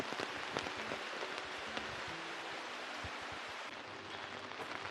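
Rain falling at MacRitchie Reservoir park in Singapore, a steady soft patter with scattered sharper drops, faint and even throughout.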